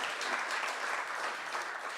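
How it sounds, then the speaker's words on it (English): Steady applause from an audience at the Australian Folk Music Awards 2023, honouring volunteer judges, continuous clapping filling the room with no voices over it. "Give them a round of applause, honestly, folks."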